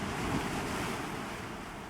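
Water waves wash in Pantheon: Rise of the Fallen, a steady soft surf roar with gentle swells and a breezy hiss, no voices.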